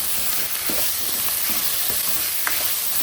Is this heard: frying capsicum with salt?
yes